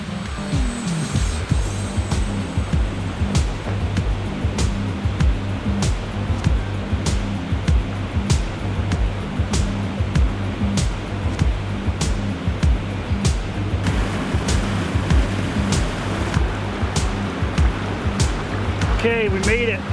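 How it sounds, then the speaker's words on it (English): A waterfall on the Keweenaw Peninsula rushes steadily at its base, a constant broadband roar with a recurring low rumble and periodic clicks, continuing throughout. "Here's the base of the falls, you can see over my shoulder"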